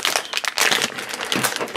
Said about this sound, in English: these are tough to tear